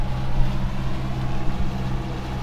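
A sailboat's inboard engine runs steadily at 2000 RPM while the yacht motors at about 7.6 knots, a continuous low drone with a strong hum and water rush and no break.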